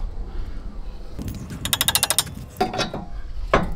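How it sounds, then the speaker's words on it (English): A hammer taps a stud out of a Toyota Tacoma steering spindle, with a quick burst of rapid metallic strikes followed by two sharper separate hits in a garage. "take a hammer and gently tap that stud out of the spindle"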